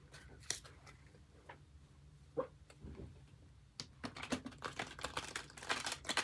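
Quiet, close-up shuffling of tarot cards: scattered soft clicks and taps, then a denser flurry of rapid riffling toward the end.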